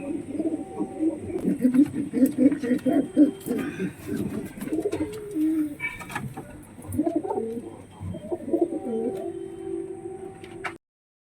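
A pigeon coos repeatedly inside its coop, close and clear, in a series of soft rolling calls with brief pauses between bursts; a faint high tone lingers in the background.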